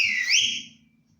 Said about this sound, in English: The whistle blew.